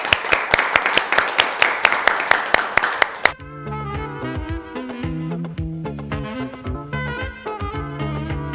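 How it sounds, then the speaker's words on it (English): A few seconds of audience clapping for a poet on a children's TV show, sharp regular claps that stop abruptly and give way to music. "let's clap for her"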